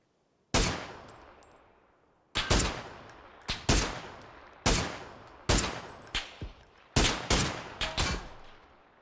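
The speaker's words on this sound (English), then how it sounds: "Guy shooting me from down there as well." Gunfire in PUBG on Xbox Series X: a series of loud, sharp shots, first single, then in quick pairs and short bursts, each trailing off in a ringing echo, with no talking.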